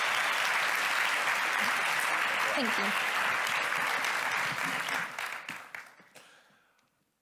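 Conference audience applauding warmly and steadily, a broad wash of many hands that fades out near the end, with a brief spoken thanks over it.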